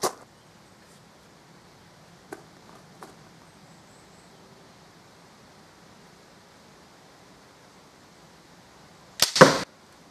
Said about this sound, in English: fire from 10 meters distance to a zombie head